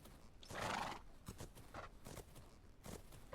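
A horse in a riding video game canters with a steady clip-clop of hooves and lets out a loud neigh near the start, followed by repeated hoofbeats.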